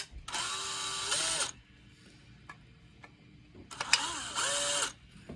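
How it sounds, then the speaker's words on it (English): A power driver whirs in two loud bursts, each about a second long, as screws are backed out of linear bearing rails, with faint clicks and handling noises in the quiet gap between. "So we're going to take all those screws out"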